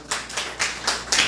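Several hands clap in a church discipleship training session, sounding as four or five separate bursts of applause at a fairly even pace, near and moderately loud, with no talking over them.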